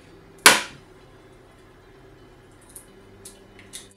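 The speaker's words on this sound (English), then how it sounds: "Crack the egg in a big bowl." A single sharp crack of an egg against a big bowl sounds close and clear, followed by a few faint small taps and drips in an otherwise quiet kitchen.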